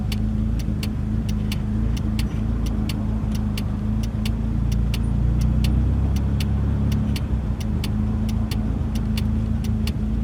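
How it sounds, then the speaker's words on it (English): Road traffic heard from inside a moving Triumph Acclaim, a steady engine drone and road rumble with a constant hum and a regular ticking, no talk. "Well, this seems to be just be traffic chaos"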